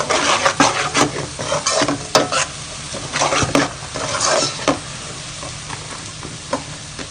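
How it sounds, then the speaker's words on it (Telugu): Cashew nuts fry in a pan until golden, with a bright, constant sizzle and repeated scraping stirs and clinks of a utensil against the metal, loudest in the first half. "ఈ జీడిపప్పు కూడా దోరగా వచ్చే వరకు ఫ్రై చేసుకోవాలన్నట్టండి."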